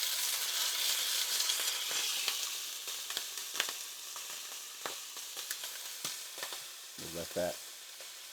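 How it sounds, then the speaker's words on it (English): Sauerkraut fries in olive oil in a pan, a soft continuous sizzle with occasional clicks and light scrapes, a brief voice near the end. "I'm going to put some sauerkraut in that pan."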